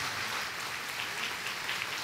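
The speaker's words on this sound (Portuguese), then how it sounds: "Vamos aplaudir o Senhor Jesus." A church congregation claps steadily and fairly loudly in a continuous wash of applause, with no voices standing out.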